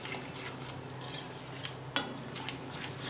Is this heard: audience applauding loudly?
no